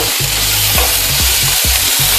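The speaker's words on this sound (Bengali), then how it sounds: "সমস্ত সবজি আমি আগে প্রথমে একটু ভালো করে ফ্রাই করে নেব।" Beans and tomatoes fry in a pan with capsicum, giving a loud, continuous close sizzle with stirring, and a low droning tone runs underneath.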